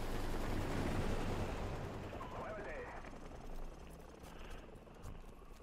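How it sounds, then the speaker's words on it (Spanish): Enemy helicopters in Modern Warfare Remastered campaign, a faint, steady rotor rumble with distant battle noise in the background. "Helicópteros enemigos."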